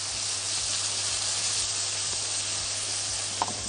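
Meat fries in ghee in a pot with a continuous, even hissing sizzle that holds steady throughout, with no voices over it.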